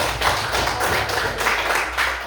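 A short burst of applause from a group, likely a class, rapid overlapping hand claps at close range, fairly loud and even for about two seconds, with no voices over it.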